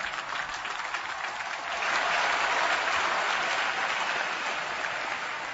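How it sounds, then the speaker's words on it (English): A graduation ceremony crowd applauds steadily, the dense clapping swelling louder partway through and holding strong to the end. "Let's give our graduates a tremendous round of applause."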